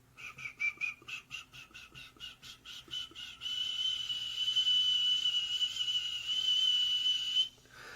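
A person imitates a pig mixed with a monkey with shrill whistled squeaks, not using the lips, first in a quick pulsing series, then one sustained high squeal, fairly quiet.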